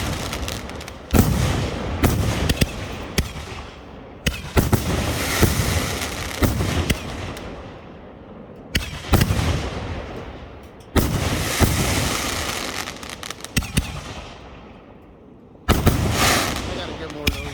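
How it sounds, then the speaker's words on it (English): Thriller peanut rack of aerial firework shells launching and bursting in 2023, a long run of booming thumps and crackling explosions in rapid clusters with short gaps, loud and echoing outdoors with voices now and then underneath. "Well, no, this is the shells. It's gonna go up right now."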